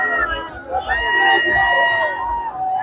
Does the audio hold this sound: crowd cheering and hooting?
yes